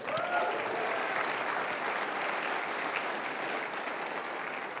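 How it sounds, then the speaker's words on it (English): Sustained audience applause fills a large conference plenary hall, a dense, steady wash of many hands clapping at even loudness throughout with no voices breaking through. "Give yourself a round of applause."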